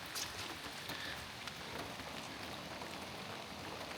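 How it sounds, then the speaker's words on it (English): Steady rain falls on a van during van life travel, with a continuous close hiss of drops patting the surface and no talk. "This rain will do that to you, Bubby."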